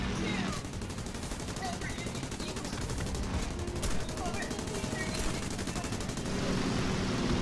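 An aircraft rear gunner fires a machine gun in War Thunder air combat, rapid continuous bursts rattling steadily over an engine drone, with a voice talking faintly underneath.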